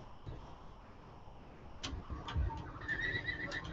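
A horse in the video game Elder Scrolls Online gives a short neigh amid faint game ambience, a brief whinny rising out of a quiet background with a few soft clicks and knocks around it.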